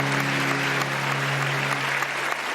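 Studio audience applause on a Pakistani TV game show, dense continuous clapping over a low steady hum, sustained throughout.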